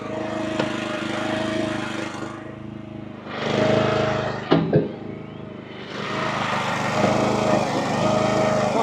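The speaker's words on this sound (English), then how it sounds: "it sounds like the splitter might be running out of fuel" Small engine of an Eastonmade Ultra log splitter running low on fuel, a close, loud droning that surges and sags unevenly with brief dips and a couple of sharp knocks, while people talk nearby.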